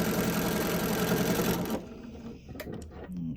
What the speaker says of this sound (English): And now I'm going to stitch in the ditch.